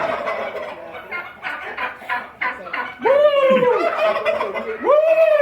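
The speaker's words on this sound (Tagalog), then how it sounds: "Mga pabo. Lada Turkey." Turkeys gobbling at a farm in Kuwait, several loud close rattling gobbles in bursts with other fowl calling around them.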